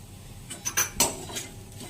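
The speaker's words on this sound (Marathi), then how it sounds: "इथे मी आता दुसरी कढई ठेवते ज्यात मला भाजी बनवायची आहे" A metal wok is set down on a stove with a few sharp clanks close by, over a quiet background.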